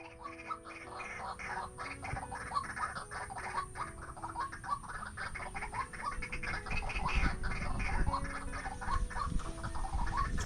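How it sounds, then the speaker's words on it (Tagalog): Birds call repeatedly near bamboo in a rural outdoor setting, short chirping and clucking notes recurring at a fairly regular pace, faint and somewhat distant over low background noise. "may mga nakaabang po lagi sa ating ibon oh"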